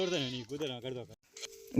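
Sheep in a village flock bleat loudly and close by, giving three wavering calls in quick succession, then a short silence and a thinner, higher cry.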